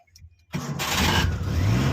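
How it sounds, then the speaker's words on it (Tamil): After a brief quiet moment, the engine of a 2009 Maruti Omni van with a carburettor cranks and catches, then settles into a steady, close, loud idle. "வண்டி நியூட்ரலில் பண்ணிக்கிட்டு ஸ்டார்ட் பண்ணணும்."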